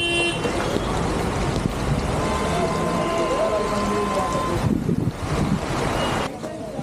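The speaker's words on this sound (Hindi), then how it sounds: "बारिश में देख रहे हो हाथी पाँव में कितना ट्रैफिक लग गया।" Car horns toot in a rain-soaked traffic jam at Hathi Paon near Mussoorie, with a broad windy rush of rain and engines underneath and a person talking over the noise.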